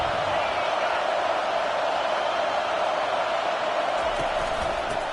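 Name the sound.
crowd roaring at a college football game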